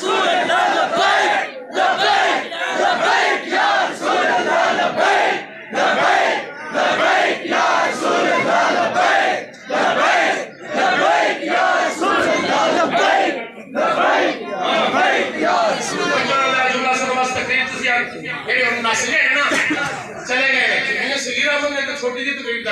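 A large crowd shouts religious slogans in loud, repeated call-and-response bursts at a speech event, the massed voices rising and falling in steady waves with brief gaps between chants.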